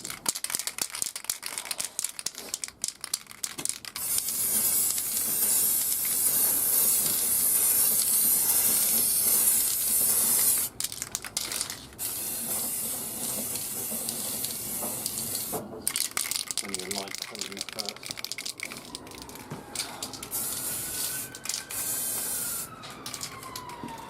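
Long, loud hissing bursts of an aerosol spray can respraying a Hotpoint washing machine, broken by short pauses and rattly clicks, with no talking.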